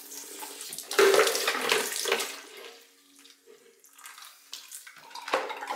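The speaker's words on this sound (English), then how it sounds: "Drain out a little bit." Water trickling and splashing out of a freshly cut copper pipe during plumbing work, a close, uneven gush that surges early then tapers to faint dribbles, with a few small clinks.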